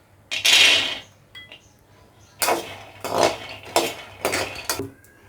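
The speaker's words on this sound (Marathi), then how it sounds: "आता आपण शेंगदाणे भाजून घेऊ" Peanuts being dry-roasted in a pan, as for Maharashtrian vangyache bharit, give bursts of rattling, scraping clatter in several separate spells, loud and close, with no talk.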